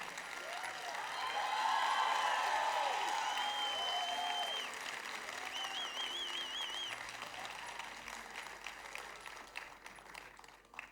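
A crowd at a Taare Zameen Par fan meet applauds Darsheel Safary with a sustained, dense round of clapping that swells and slowly tapers, with some whistles and cheers over it.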